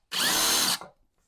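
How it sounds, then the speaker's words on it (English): A power drill bores screw holes into a wooden Shaker table top, one loud continuous whine lasting under a second, then winding down to silence, close and alone. "I'm very, very careful on the drilling there"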